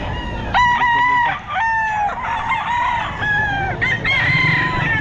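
A Boston Roundhead gamefowl rooster crows repeatedly at a busy pet market in Bocaue, loud close calls with clucking between them over a low murmur of background activity.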